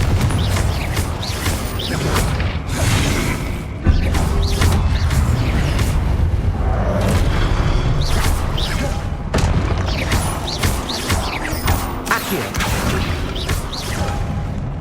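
Confringo blasting spells detonate in Hogwarts Legacy with repeated heavy booms and crashing bursts, whooshes and debris rumbling through a dense, loud battle soundscape.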